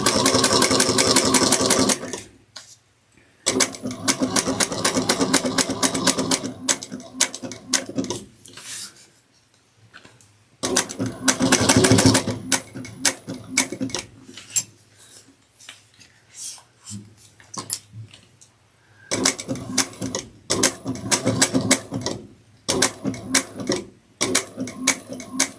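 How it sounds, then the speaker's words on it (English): A sewing machine top stitches the seams of a sling pack in rapid, close, clattering runs, stopping and starting repeatedly with brief quiet gaps between bursts. "we're going to top stitch this at 1/8 of an inch all the way around"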